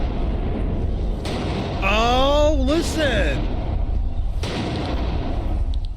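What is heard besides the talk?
video game gunshots with reverb echoing in a corridor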